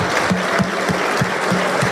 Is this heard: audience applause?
yes